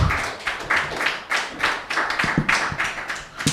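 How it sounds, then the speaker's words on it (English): Audience applause at a storytelling open mic night, a dense patter of many clapping hands with a few sharper nearby claps, sustained steadily through the whole stretch without speech. "let's give another round of applause for Mike"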